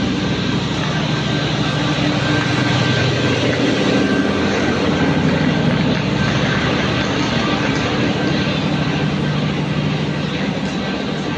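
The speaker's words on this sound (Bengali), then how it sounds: "এই দেখো বিশাখাপত্তনম যাওয়ার ট্রেন।" A train bound for Visakhapatnam stands at a railway station, giving a steady, loud, unbroken rumble and hiss of engine and platform noise that continues throughout without pause.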